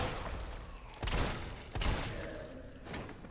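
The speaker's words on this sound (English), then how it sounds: "Three shots, it looks like." Three gunshots fired in Resident Evil 3 Remake, a handgun or shotgun in a survival-horror fight: spaced, moderately loud thuds about a second apart over a dense game-sound backdrop.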